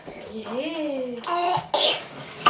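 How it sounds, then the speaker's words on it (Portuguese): A young child vocalizes with rising and falling sounds, then gives a short, abrupt cough close up. "E essa tosse?"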